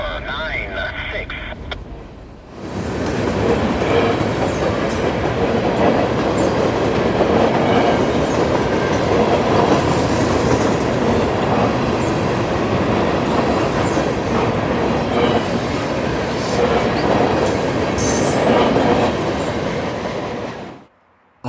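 A Norfolk Southern freight train rolls past close by for about twenty seconds, a loud sustained roar with rattling, clattering wagons that cuts in abruptly and fades at the end, while a voice is faintly audible beneath it.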